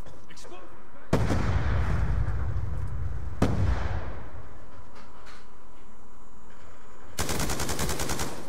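Video game gunfire in Call of Duty Black Ops 2 comes as several sharp, loud shots and bursts with echoing decay, ending in a rapid automatic volley.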